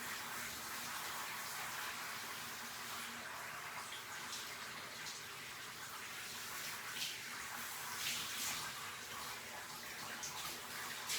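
Shower running in a bathroom while a yellow Labrador is washed, a steady broadband hiss of spraying water for the whole stretch with small splashes, close and constant.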